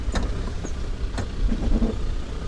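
A car bumping and grinding along a very rough off-road track near Bedori Peak in Poonch, AJK, its hydraulics not working, with a steady engine rumble, road noise and a few sharp knocks and rattles throughout.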